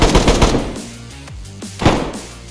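Rapid bursts of gunfire in DayZ, shots pounding through a player's base walls, loud and close at first, then a pause and another sharp volley.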